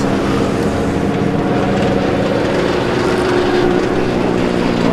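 Race cars roar across the finish of the opening Improved Production under 2 litres race at Island Magic, a steady, loud, dense engine drone that fills the whole clip with no talk.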